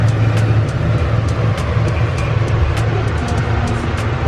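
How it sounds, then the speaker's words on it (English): A small tram at Ghibli Park in Aichi, Japan, rolls along with a steady low motor hum and rumble, broken by light rhythmic clicks and taps, close and continuous, with no talking. "But look how cute this little tram is."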